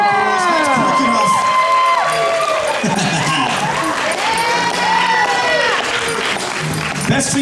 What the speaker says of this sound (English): give her a quick round of applause